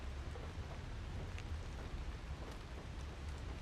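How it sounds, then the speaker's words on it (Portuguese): Heavy rain falling steadily on an outdoor film set, a dense, even hiss with no breaks, faint and distant, and no voices. "E a chuva está bem mais forte."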